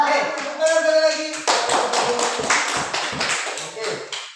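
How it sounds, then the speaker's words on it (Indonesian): Hands clapping together in a school classroom, a short burst of applause from a group of students running about three seconds, with voices mixed in. "Oke, tepuk tangan sekali lagi."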